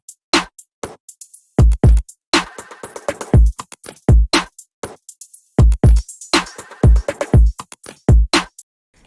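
A music production loop pitched down five semitones, built from punchy percussive hits with deep low-end thumps and bright transients in a repeating rhythmic pattern, loud and up front with no talking.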